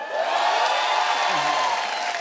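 Applause and cheering from a studio audience at a Hindi television show, a steady roar of clapping and crowd noise, with a rising whistle-like tone cutting through near the middle.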